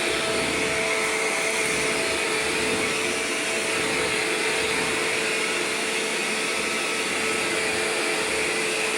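A Shark Rotator vacuum cleaner runs steadily on a kitchen floor strewn with pancake powder, its loud, continuous motor whine and airflow roar holding an even level throughout with no talking.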